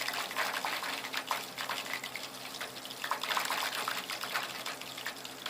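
Coolant pours out of a Baja's radiator into a drain pan in a steady, continuous gush of liquid, close and fairly loud, with no talk over it.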